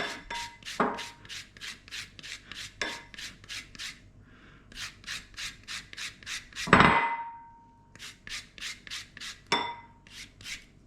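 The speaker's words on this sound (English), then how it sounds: "I kind of want to get the zest from all around the lemon." A lemon being zested on a grater gives rhythmic close scraping strokes, about two per second, with a few louder knocks of the lemon or grater against the board. No voices are heard.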